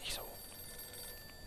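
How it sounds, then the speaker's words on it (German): A telephone rings in the Mafia II video game: one brief, fairly faint ring at the very start, followed by quiet game ambience. "Und jetzt bimmelt das Telefon."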